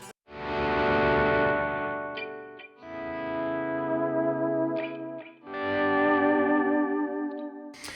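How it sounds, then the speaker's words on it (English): Sustained electric guitar chords shimmering with a wavering chorus effect, played clean and loud, with a few brief pauses between strummed phrases. "get a different alternate on that chorusing sound"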